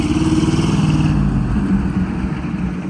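The big block engine of a Chevrolet Square Body barn-find truck, running rough with an exhaust leak, gives a loud, close, throbbing idle-to-rev rumble for a few seconds.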